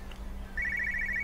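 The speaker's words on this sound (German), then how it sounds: "Oh, Telefon. Ein Telefon hier mitten auf der Gas." A telephone left in the middle of a street in Everybody's Gone to the Rapture starts ringing, a close, bright electronic trill that rises in and holds steady over a low hum.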